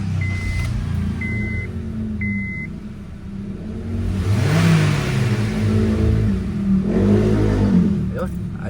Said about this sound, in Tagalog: Kailangan lang natin painitin ng husto tong kanyang makina, no?